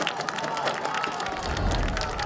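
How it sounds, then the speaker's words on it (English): At a high school boys' soccer match at Dilboy Stadium, the home crowd roars and cheers after a long-range goal, a dense, sustained rumble of voices and clapping from the stands that swells toward the end. "And the Medford crowd explodes."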